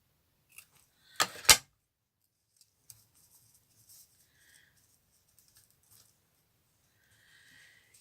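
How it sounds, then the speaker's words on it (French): Scissors snip a small piece of ribbon: a quick pair of close, crisp cuts, followed by faint handling rustles in an otherwise quiet room. "Un petit bout de ruban. Je vais le couper en comme ça."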